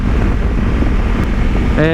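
Strong wind roars over the microphone while riding a Honda Africa Twin motorcycle, a loud, continuous low buffeting that masks almost everything else, with a brief tonal hum near the end.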